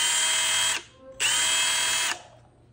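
A Milwaukee impact driver runs at its lowest speed setting, giving two steady high-pitched whirring bursts with a short pause between them, close and loud with no talk.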